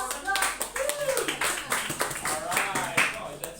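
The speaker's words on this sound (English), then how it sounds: "Please give applause for them." A student group gets applause after a classroom microteaching presentation: scattered hand clapping at moderate volume, uneven and overlapping with chatter and a teacher's voice.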